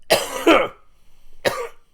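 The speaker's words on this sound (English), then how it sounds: "So this cough that I have" Two harsh coughs close together, followed after a short pause by a third, close to the microphone in a quiet room.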